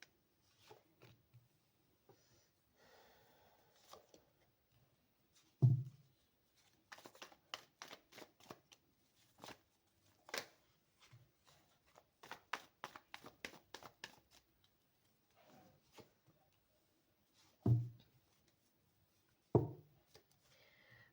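Tarot cards being shuffled and handled: quiet papery riffles and rapid flicking bursts in several separate runs, with soft thumps and taps of the deck between them, close and otherwise hushed.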